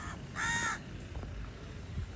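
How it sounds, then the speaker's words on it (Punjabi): A single harsh crow caw rings out clearly, followed by quiet outdoor ambience with faint background rumble. "ਕਾਂ ਬੋਲੀ ਜਾਂਦਾ"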